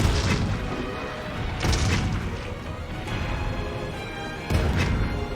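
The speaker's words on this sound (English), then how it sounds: "Let's see if I can get some cannon shots back there." Cannon shots in the video game Monster Hunter Rise, heard as repeated deep booming blasts spaced irregularly through the clip over a continuous rumbling game soundscape, with no talking.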